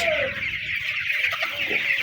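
Sonali chickens of the Bonoraja company, about thirty-seven days old, clucking steadily in a poultry shed holding about a thousand birds, a dense continuous chatter of many hens nearby.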